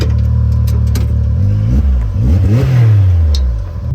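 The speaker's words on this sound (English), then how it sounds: "I'll let it idle for a while." A Can-Am Maverick X3 side-by-side engine runs steadily nearby, loud and continuous, its low hum shifting in pitch partway through as the revs rise and fall slightly.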